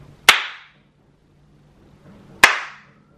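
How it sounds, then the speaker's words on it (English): Two sharp, loud hand claps ring out about two seconds apart in a quiet room, each with a short decaying echo and near silence between them. "who has the loudest clap?"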